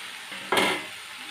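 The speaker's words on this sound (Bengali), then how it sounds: "আরও একবার ভালো করে নেড়ে চেড়ে দিচ্ছি।" Vegetables stirred in a cooking pot while making a Bengali snake gourd (chichinga) dish; a single short scrape and rustle lands sharply in the middle, near and fairly loud, followed by a fading sizzle.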